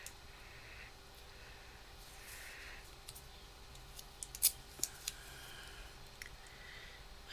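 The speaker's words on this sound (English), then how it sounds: "I'll just tape it down with this washi tape real quick." Washi tape is snipped with scissors and pressed down on a handmade Christmas card, a quiet room with a few soft crisp cuts and light taps clustered near the middle, no voices.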